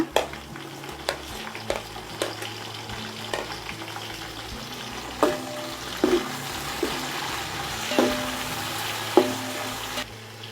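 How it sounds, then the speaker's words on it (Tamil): Tomatoes sauté with onion and mint in a hot pan, a constant sizzle broken by repeated stirring scrapes and knocks of a spoon against the vessel, close and with no voices. "இப்போ தக்காளி சேர்த்துக்கிட்டு வதக்கிலாங்க"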